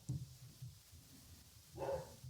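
A nervous female dog barks indoors in a few low, muffled bursts, a close woof near the start and a louder, fuller bark toward the end, with quieter growly sound between.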